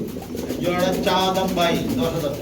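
Soft, repeated throaty cooing of pigeons close by, in low rolling phrases, with a dull background hum.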